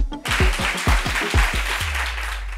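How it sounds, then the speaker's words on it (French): Applause rises abruptly and continues in a dense wash of clapping for a couple of seconds, with heavy low thumps pulsing beneath it in a steady rhythm. "applaudissez"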